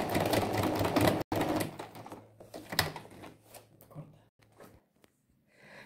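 A sewing machine stitches a zipper into fabric, running in a fast, steady whir at first, then slowing into slower, uneven stitches and stopping near the end.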